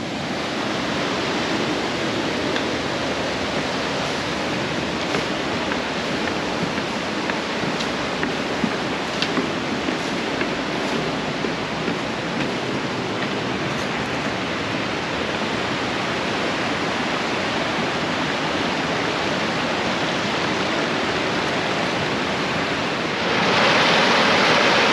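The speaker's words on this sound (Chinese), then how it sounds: "那看到这个小溪流啊" Small mountain stream in Taiwan flowing nearby, a steady dense rush of running water that stays loud and even throughout, with no voices.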